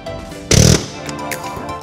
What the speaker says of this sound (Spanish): voy a utilizar este martillo de aire o martillo de mano